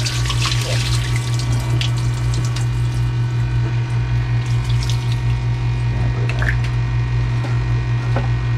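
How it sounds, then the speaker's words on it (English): Steady water gushing from the hose of a boat watermaker, a continuous near rush with a constant low pump hum beneath and a few faint clicks, no voices. "make sure we got good water flow, and there's no stuff in the hose itself. So we got a good amount of water coming out."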